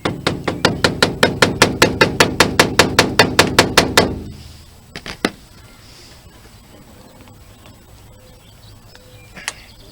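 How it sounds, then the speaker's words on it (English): Sharp, rhythmic hammer taps on a screwdriver driven into a worn screw on the roof trim of a 1978 Apache pop-up camper, a rapid even series of about twenty loud strikes, then a quiet pause and a couple of isolated clicks. "I'm gonna take a hammer, try to tap my screwdriver into it and take it out"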